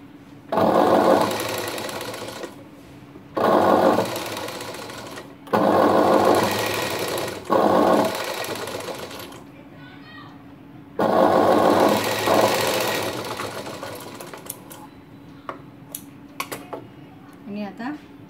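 A sewing machine stitching a blouse strip runs in five loud, close bursts of rapid whirring stitching with pauses between them, and someone talks throughout.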